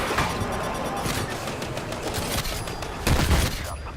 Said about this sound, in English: We're being shot at by an AA gun.